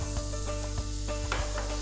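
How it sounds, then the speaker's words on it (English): Steady, crackling sizzle of green bell pepper frying in a hot pan, continuous and close, with occasional scraping stirs. "And then we have some green bell pepper. Nice and sizzling."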